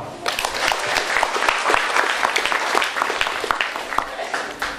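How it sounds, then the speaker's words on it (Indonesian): A crowd applauds warmly, dense clapping filling the whole stretch at a steady, lively level. "Tepuk tangan dulu dong."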